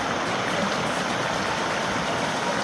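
Cold mountain creek in the woods, water flowing steadily over rocks with a continuous broadband rushing and gurgling, close and loud throughout, with no voices.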